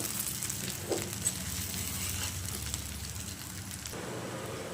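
Leftover spice stuffing stirred into a tender-eggplant gutti vankaya curry in a hot pan, a steady close sizzle with soft scraping stirs running throughout.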